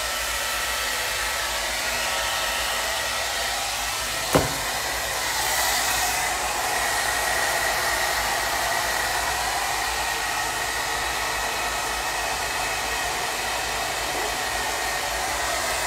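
A hair dryer blows steadily on its cold setting during a makeup session, a continuous broadband whoosh that holds for the whole stretch, with one sharp click partway through.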